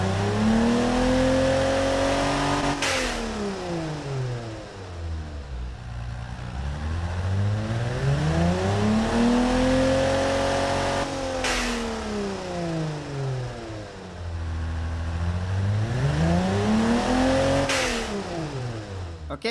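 Simulated car engine from the Automation tycoon game, built as a 2004 car, running and revving in three long smooth sweeps that climb high and fall back to idle, loud and steady with no talk.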